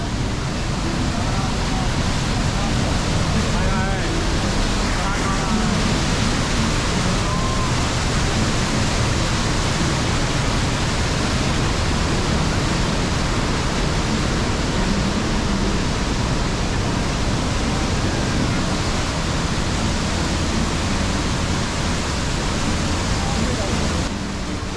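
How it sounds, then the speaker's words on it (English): Rushing, foaming water of Rhine Falls in Switzerland gives a loud, unbroken roar of dense, even noise that fills every moment without any pause or change. "The rushing, foaming water is incredible to watch."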